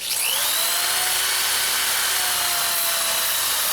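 A wood lathe spins steadily through the finishing of a turned wooden piece, giving a constant whirring drone with a faint high whine and a light rubbing hiss, with no talk.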